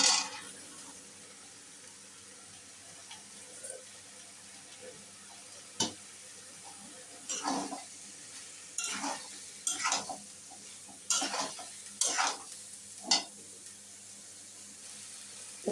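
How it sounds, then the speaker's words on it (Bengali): Bottle gourd pieces stirred into cooked spice paste in a pan give a soft sizzle, with intermittent scraping and stirring strokes coming in short bursts in the second half. "তো কষানো হয়ে গিয়েছে লাউটা"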